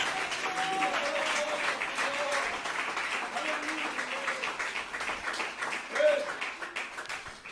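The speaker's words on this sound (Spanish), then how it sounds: "Dele un fuerte aplauso al Rey de la Gloria." A church congregation gives sustained applause for several seconds, steady crowd clapping with voices and faint tonal sounds mixed in, briefly swelling near the end.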